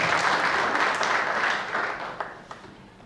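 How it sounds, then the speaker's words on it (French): Audience applause at the official launch event of an accountants' club in Senegal, full and sustained at first, then thinning and tapering off with a few stray claps near the end. "Applaudissez avec tous vos mains pour qu'ils vous entendent"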